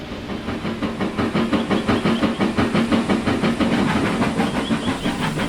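A large express steam engine sets off, its chuffing exhaust beats coming in a fast, regular rhythm with hiss, loud and near, building slightly in strength as it gets underway.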